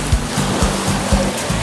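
Ocean waves at a rocky beach wash in a steady broadband rush, with low thumps of water surging every half second or so, loud and close, with no talking.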